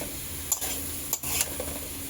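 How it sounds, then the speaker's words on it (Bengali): Spice paste of cumin and chilli powder cooking down with a splash of water in a pan, a steady sizzle broken by three sharp scrapes of a spoon stirring, no voices. "এইবারে সামান্য একটু জল দিয়ে মশলাটাকে ভালো করে কষাতে হবে"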